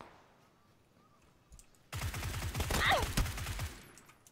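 Video game gunfire erupts suddenly after a quiet stretch into a loud rapid burst of automatic shots with a fast rattling rhythm, a voice briefly audible before it starts.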